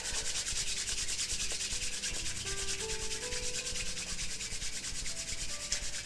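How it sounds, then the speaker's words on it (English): Palms rub briskly together in a continuous, close, even rasping swish during a Chen-style tai chi health exercise. "so rub the hands together"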